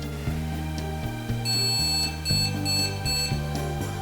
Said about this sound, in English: the case speaker should beep once